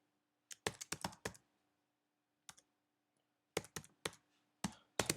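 Keys clatter on a computer keyboard in short bursts of quick clicks separated by brief pauses, close and clear in a quiet room while a web address is entered during a WordPress install.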